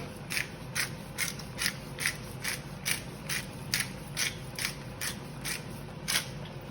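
A pepper mill cracks black peppercorns for pasta with a steady rhythm of about a dozen close, gritty grinding crunches, each twist short and evenly spaced.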